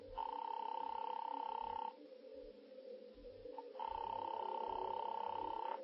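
An old telephone rings through a switchboard line in two long, steady, buzzing bursts separated by a short pause. The sound is faint and tinny, with low background hum.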